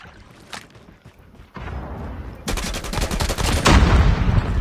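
TEC-9 fired on full auto in a video game, a few quiet shots giving way to a loud, rapid burst of gunfire that keeps building into dense sustained automatic fire.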